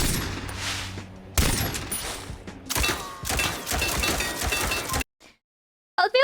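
In a video game, gunfire shoots individual leaves off breakable vegetation. Dense, loud bursts of rapid shots and cracks come in several runs, then cut off abruptly into near silence before a short final burst.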